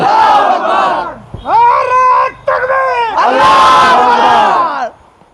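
A crowd at a religious gathering shouting in unison in response to a Nara-e-Takbir chant, loud, close chanted calls in several bursts separated by short pauses.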